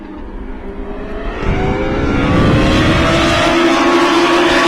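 Boxy US Legend Cars race at Thompson Speedway down its long front straightaway, a loud, close pack of engines droning and swelling as the cars draft together and surge past, with no talk.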